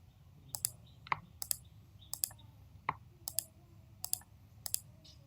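Crisp computer mouse clicks close by while editing in Premiere Pro, mostly in quick pairs at a steady pace, with a few single softer clicks between them and no voices.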